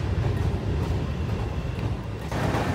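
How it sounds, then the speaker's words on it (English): A passing train rumbles loud and steady nearby, a broad low roar of wheels and cars with rattling texture, continuous and close for the whole stretch. "We interrupted the session to feature the train that was passing while I was filming."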